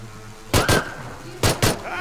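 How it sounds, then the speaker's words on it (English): Gunfire in a video game, two quick pairs of loud sharp shots with a pause between them, set over a low engine drone. "as he rotated, he shot you"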